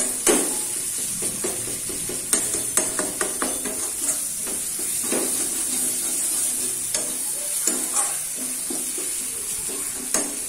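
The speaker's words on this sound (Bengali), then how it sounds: "তো মশলাটাকে একটু কষিয়ে নিয়ে আমরা আবার ফিরে আসছি।" Spice masala for egg curry sautéing in oil, a continuous close sizzle broken by repeated scraping and tapping strokes of a spatula against the pan.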